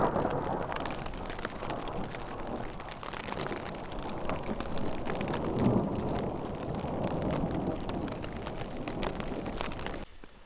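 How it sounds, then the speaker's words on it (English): Heavy downpour drumming on a camping tent during a fall canoe trip in Canada, with deep rolling thunder rumbling underneath; the dense, steady rain stays close and loud throughout. "it is downpouring with some pretty intense thunder and lightning"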